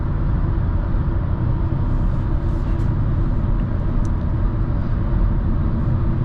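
Cabin of a 2024 Hyundai Elantra base trim on the move, a steady loud road and engine rumble with constant low-end drone and faint tire hiss, no talking.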